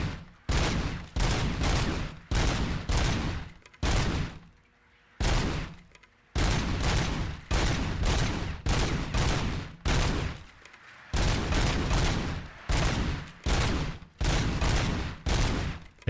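Bursts of heavy automatic gunfire from the video game RoboCop: Rogue City, loud and close, coming in rapid volleys separated by brief pauses.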